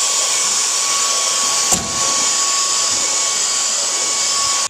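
Dyson Digital Slim cordless vacuum cleaner, wand removed, runs on stairs with a loud, steady high-pitched whine and airy rush, briefly disturbed by a small knock as the head meets a step, then cutting off at the end.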